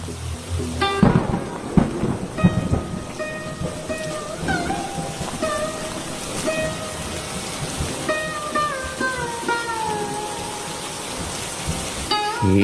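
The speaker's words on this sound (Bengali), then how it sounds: "বৃষ্টি হচ্ছে এমনি" Steady rain and rolling thunder on a stormy day at a meat market in a Bengali cartoon, a continuous wash of rainfall with deep rumbles, mixed with tonal music or effects throughout.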